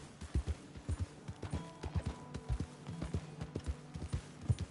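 Horse hooves in the video game Red Dead Redemption 2 make an irregular clip-clop of soft, close hoof thuds on the ground. The quiet steps come in a loose walking rhythm with no voices.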